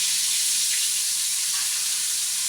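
Pieces of roast frying in a pan, a steady close sizzle with a constant hiss and no talking.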